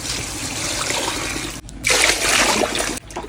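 Water pours steadily into a large cooking pot of rice for chicken madhoot, breaks off briefly, then gushes again more loudly before stopping near the end.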